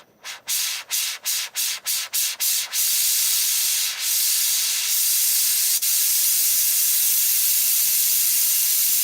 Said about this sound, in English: I'm going to turn this flame up because I want to get this stainless hot fast